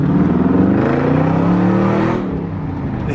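A Chrysler 300 Scat Pack with a loud exhaust pulls hard, its close, booming engine note rising through the revs before backing off into a quieter rumble.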